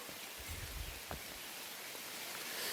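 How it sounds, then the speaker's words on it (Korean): Steady rain falling on a forest mountain trail during a downpour, a broad hissing patter close around with a few low thumps, no voices. "빗소리도 너무 좋습니다"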